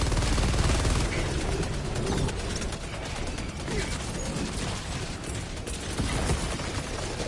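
Sustained automatic fire from the Stalwart machine gun in Helldivers 2, a dense, unbroken rattle of rounds with mechanical clatter that stays loud and steady from start to finish.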